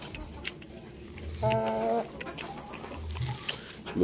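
Shamo and Aseel chickens on an Indonesian rural farm, one bird giving a short run of clucks in the middle, with softer clucking near the end over a low background of farmyard noise.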